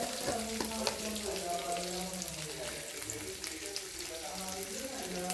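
Sliced onions sautéing in a pan for kappa thoran, a soft continuous sizzle with occasional stirring scrapes, fairly quiet, with faint background tones.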